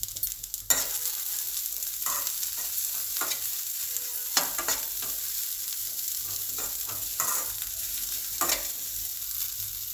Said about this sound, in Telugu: తర్వాత ఇందులో చిటికెడు పసుపు వేసి వేయించుకోవాలి.